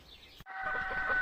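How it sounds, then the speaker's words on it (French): Jersey hens clucking in a poultry park, a steady close chorus of clucks and fowl calls rising after a brief pause and continuing loudly to the end. "on se retrouve tout de suite pour les poules Jersey"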